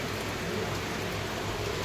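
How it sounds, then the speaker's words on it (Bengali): Rain falls steadily on a roof overhead, a continuous soft hiss of drops that stays even and moderately quiet without any talking. "বৃষ্টি আরম্ভ হয়ে গেছে"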